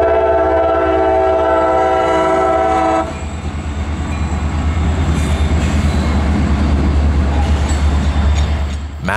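A CSX freight train near a phosphate-country rail yard sounds a loud, sustained multi-tone horn for about three seconds, then its cars roll past with a heavy, steady rumble and occasional wheel squeal.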